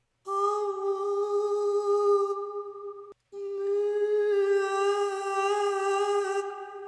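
A sampled Arabic-style female vocal lick, Nada Arabic Licks from FNO World 6, sings a sustained ornamented melody in two long phrases split by a brief gap, clear and upfront with no other sounds.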